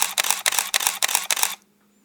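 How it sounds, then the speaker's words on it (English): Shutter of an SLR camera firing in a rapid burst, six or seven sharp mechanical clacks in quick rhythm, close and loud, then a brief quiet tail. "the noise of the shutter is much more obvious with an SLR"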